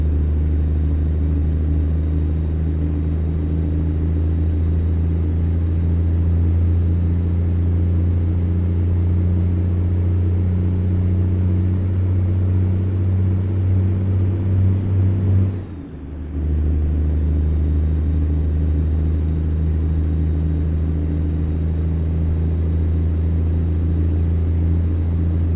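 Freightliner Cascadia truck engine in American Truck Simulator, hauling a load over 100,000 pounds: a steady, loud low diesel drone held for the whole stretch, with a brief dip partway through.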